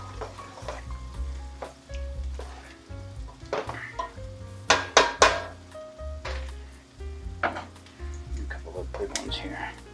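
Pork belly soup ingredients stirred in a hot pot, giving a steady sizzle and frying crackle with clattering spoon scrapes and a few sharper knocks, loud and close, with a voice speaking at times.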